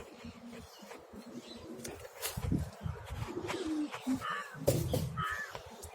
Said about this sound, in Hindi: ତାପରେ ଏବେ ତ ପାରା ଗୁଡ଼ାକୁ ପୁରେଇ ଦେବା